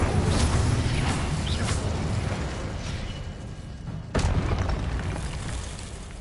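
Incendio fire spell cast in Hogwarts Legacy, a loud, roaring whoosh of flame sustained for several seconds, with a sharp burst partway through that renews the blast.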